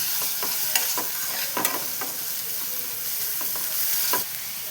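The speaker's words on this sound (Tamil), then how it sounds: "இப்போ இஞ்சி பூண்டு பேஸ்ட்டு சேர்த்துக்கலாம்." Ginger garlic paste frying with softened onions in a pan, a continuous close sizzle broken by intermittent spatula scrapes and stirring strokes, with no one talking.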